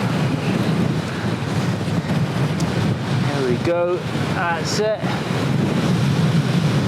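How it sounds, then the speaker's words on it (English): Strong wind roars steadily across the microphone on an exposed outdoor height, buffeting loudly throughout, with a person briefly speaking partway through. "It's so windy up here"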